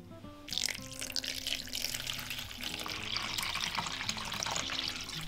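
Water pours steadily into a vessel of crushed grapes as part of brewing an ancient Sumerian-style beer, a continuous close splashing and trickling with faint tonal hum underneath and no talk.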